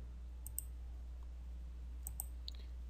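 Computer mouse clicks while graphics software is worked, a few light, sharp taps scattered in small clusters over a steady low hum, close and faint.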